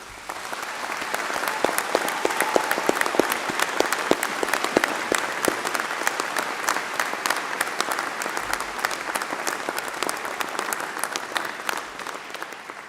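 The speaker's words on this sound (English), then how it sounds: "could we start by giving them a huge round of applause?" Graduation ceremony audience at a university arts, design and media faculty applauding, a dense sustained round of clapping from a large crowd that holds steady for over twelve seconds before easing slightly.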